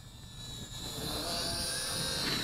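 An MJX X708P optical-flow FPV drone flies outdoors, its propellers giving a continuous high whirring buzz that holds steady and grows slightly louder over a couple of seconds.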